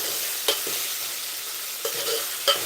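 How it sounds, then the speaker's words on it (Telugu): Ginger frying in a pan for khichdi, a steady close sizzle with occasional utensil stirring clinks. "అల్లం వేగుతుంది"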